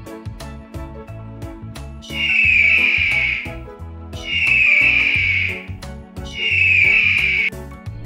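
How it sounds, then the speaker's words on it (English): An eagle calls three times in a steady rhythm, each a sustained, piercing screech that stands out over a continuous backing of music. "Eagle."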